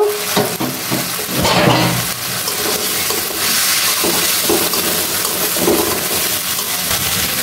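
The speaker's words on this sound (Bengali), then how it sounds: "মশলার ভিতরে আমি ভাজা মাংসগুলো দিয়ে একটু কষিয়ে নিব" Fried meat being stirred and sautéed in spice masala with green chillies, sizzling loudly in the pan with repeated scraping strokes of a spoon over several seconds.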